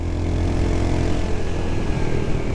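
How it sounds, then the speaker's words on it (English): A propeller airplane from a nearby airport drones overhead with a steady, broad hum, mixed with the nearby rumble of a Royal Enfield Hunter 350 motorcycle engine. "I don't know if you can see that plane overhead."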